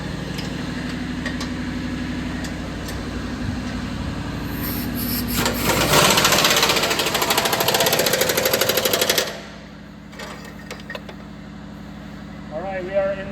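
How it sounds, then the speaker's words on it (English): A power tool, likely an impact wrench, tightens exhaust flange bolts on a 2009-2013 Toyota Matrix catalytic converter, a loud rattling burst of about four seconds over a steady engine-like hum, then quieter clicks and handling noises. "I'm gonna go ahead and tighten it down now."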